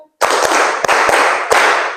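A classroom group claps together in counted bursts during an Islamic religious education lesson, the dense, loud clatter punctuated by sharper accented claps, with no talking.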